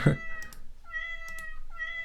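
Cat meow sound effect set as a click sound on an Adobe Muse website, two or three clear, tonal meows in a row, close and alone after a brief thump at the start.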